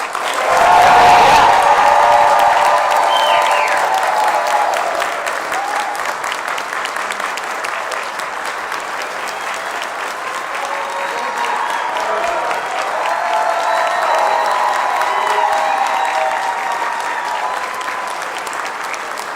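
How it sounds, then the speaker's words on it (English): Loud, sustained applause from the audience at a university doctoral hooding ceremony, a thick wash of clapping with crowd cheering and whoops rising over it and holding steady throughout. "A round of applause."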